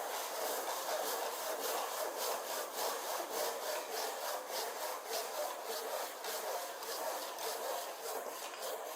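A hand saw rasps through soft pine from an old pallet in fast, steady back-and-forth strokes, close up and continuous, with no voices.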